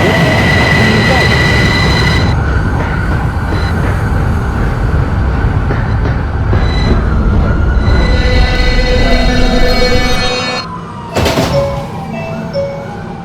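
An R subway train runs loud and close on the rails, with a heavy rumbling roar, sustained high wheel squeal tones and a sharp screech burst near the end as it slows.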